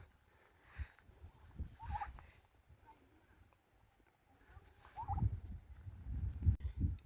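Turkeys at a livestock farm in northern Ghana, let out to feed on grass, gobbling in several short bursts from a flock, some near and some farther off, with low rustling and thumps between calls.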